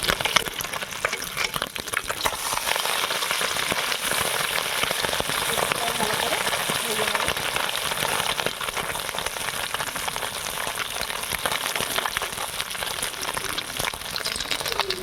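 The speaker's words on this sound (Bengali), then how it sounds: "মাছটা একটু ভাজা হয়ে গেছে উল্টে দেবো" Puti fish, flipped over, fries in hot oil in a pan: a steady, dense sizzle that stays loud and even without a break.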